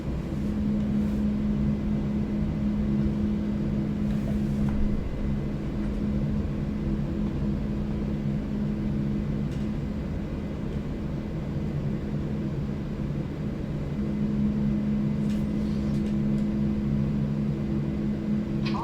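An Airbus A340 ACJ VIP jet lining up on runway 24 right produces a steady low engine drone with a sustained tonal hum, loud and continuous, and no voices are heard.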